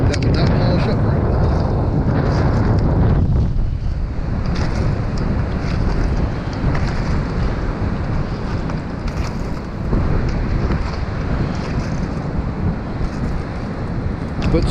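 Strong wind gusts across a microphone on the Oregon coast on a cold, windy January day. A steady roar and buffeting fill the whole stretch, with surf-like wash underneath and no clear talk.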